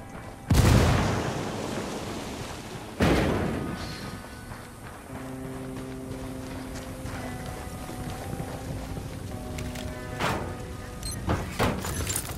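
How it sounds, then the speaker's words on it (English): Frag grenade blasts in the shooter game Ghost Recon Wildlands: two loud, booming explosions a few seconds apart, followed by a lingering rumble and scattered distant bangs. "Frag out."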